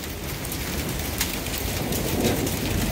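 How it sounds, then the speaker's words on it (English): Hail and heavy rain pour down in a severe storm with strong wind, a dense steady roar of impacts with occasional sharper hits, close and continuous. "It's hail. That's what it is."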